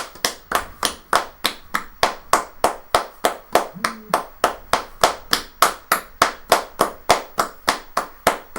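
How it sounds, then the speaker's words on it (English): Steady rhythmic clapping during a Manchester City v Norwich City Premier League watchalong, a tribute to David Silva: a long run of sharp, evenly timed claps, close and loud, with a brief murmur of voice midway. "So we're going to stand up and we're going to give him a round of applause."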